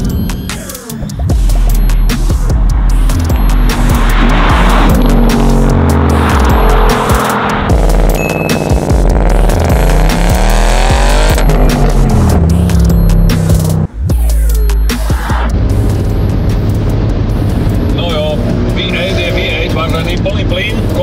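A Ford Mustang Mach 1 accelerates at full throttle up a hill during a drag race, its loud continuous engine roar rising and falling in pitch through the gears, close by, with people talking over it.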